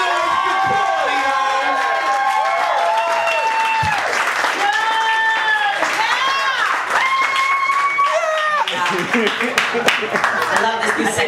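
Audience at a spoken word poetry event in New York clapping and cheering loudly for a poet, with whoops, shouts and overlapping voices above steady applause.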